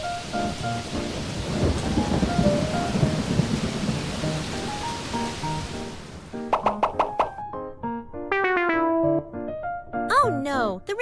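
Rain and rolling thunder rumble as a steady, dense wash for about six seconds, then give way to bright melodic tones with a few short bursts.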